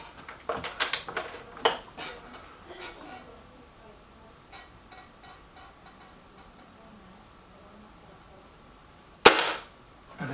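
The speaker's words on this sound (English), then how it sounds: "Shooting really well today, hasn't missed a shot yet, by the way." Air rifles, a Kral Nish and a Nova Vista Leviathan, fire sharp cracking shots, a cluster of several quick reports early on, then quieter ticks and one loud, close shot near the end.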